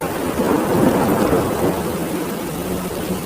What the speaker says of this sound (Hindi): फिर एक रात बहुत बारिश हो रही थी।